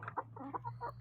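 Chickens cluck softly in short, quick bursts while pecking at banana, a few close, quiet calls over a low steady hum.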